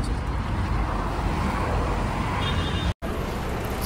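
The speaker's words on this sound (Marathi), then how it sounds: "चला, गाडी आपली आलेली आहे." An MSRTC ST bus on the road, heard as a steady, loud roadway rumble and broadband engine and traffic noise that fills the whole stretch, cut by one brief drop near the end.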